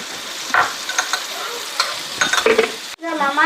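Chicken masala sizzles in a hot pan with blended ingredients while a utensil scrapes and stirs it in irregular strokes, close by, with a louder burst of frying near the end.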